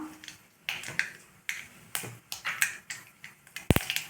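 Mustard seeds spluttering in hot oil while cooking brinjal masala rice, a rapid run of sharp, close pops and crackles scattered irregularly, with one louder burst near the end.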